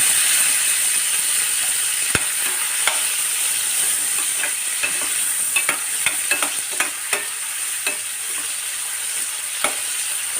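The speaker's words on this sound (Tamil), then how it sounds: "தக்காளியும் வெங்காயமும் நல்லா வதங்கட்டும்" Tomatoes and onion fry in hot oil for a fish fry gravy, giving a loud, continuous sizzle with repeated scraping and clinks as a spoon stirs the pan, and no voices.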